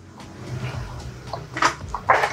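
The powered sliding door of a Suzuki DA17W van moves through its travel, with a low motor hum followed by a few sharp clunks and latching knocks near the end.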